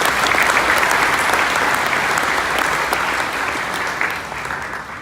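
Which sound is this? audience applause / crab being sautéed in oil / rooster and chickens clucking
audience applause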